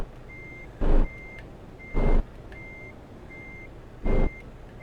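Truck reversing beeps from Euro Truck Simulator 2 in a steady, evenly spaced pattern of tones, joined by three short, louder broadband bursts, with no one talking.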